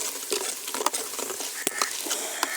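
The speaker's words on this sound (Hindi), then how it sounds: "यहाँ पर जी प्याज ब्राउन हो रहे हैं" Onions brown in a pan over a village cooking fire, a close crackling sizzle with stirring scrapes and small pops, no voices.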